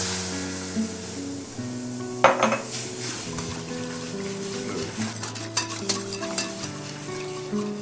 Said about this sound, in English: And just mix it up quickly so we get a nice smooth consistency.